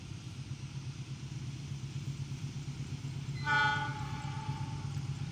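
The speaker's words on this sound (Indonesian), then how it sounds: "sudah terdengar ya semboyan 35-nya nih dari kereta api Cikurai" The horn of the Cikurai passenger train sounds once, a short blast at moderate distance, over the steady low rumble of the rolling train.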